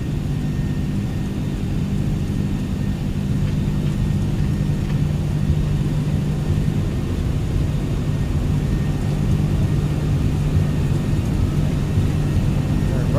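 The engines of an MD-11 freighter roar steadily on its takeoff roll from Louisville in Microsoft Flight Simulator, a loud, continuous low rumble and whine that holds for the whole stretch with no pauses.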